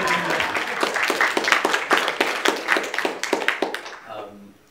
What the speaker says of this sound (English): Round of applause for Fiona Patton.